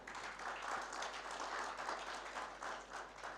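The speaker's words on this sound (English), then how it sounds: "I invite yet another round of applause for" Applause at the launch of a centre for public sector governance, a steady wash of many hands clapping, fairly faint and distant, continuing without a break.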